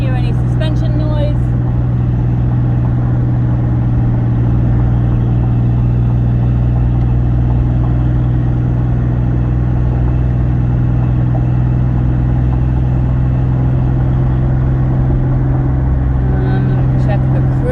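Interior of a 1999 Ford Mustang on the move: a constant low engine hum and road rumble, with someone talking briefly at the start and end.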